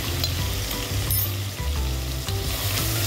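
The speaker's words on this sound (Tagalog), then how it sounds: "Haluin lang natin hanggang siya golden brown din." Beans sauté loudly in a frying pan, a dense close sizzle with stirring scrapes and spatula clicks throughout, alone without any voice.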